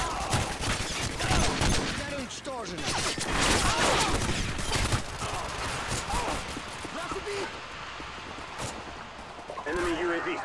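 Rapid bursts of gunfire from Modern Warfare 2 (2009) in a team deathmatch on the Skid Row map, loud and near, with dense volleys running through the whole stretch while voices talk over the shooting.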